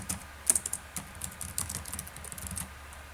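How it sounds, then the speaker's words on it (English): Someone types a name on a computer keyboard: a quick, irregular run of light, close key clicks at a soft level, with no talking. "type in my name"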